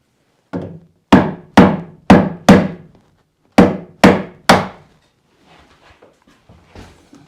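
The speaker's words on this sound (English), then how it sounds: "Just use a bigger hammer." Hammer strikes on wood, eight sharp, resonant blows in an irregular rhythm with a brief pause midway, close and loud, followed by quieter scattered knocks and shuffling.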